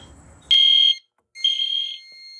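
Two loud, piercing blasts from an Edwards Genesis fire alarm horn during a system test, a short one followed by a slightly longer one, sounding muffled through a wall.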